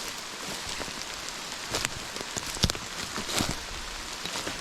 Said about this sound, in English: At least my footfall is covered by this rain.